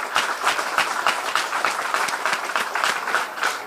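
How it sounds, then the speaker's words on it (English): Dense applause from a seated crowd at a college investiture ceremony: many hands clapping in a steady, even wash that lasts throughout, fairly close and with no talk. "A round of applause please."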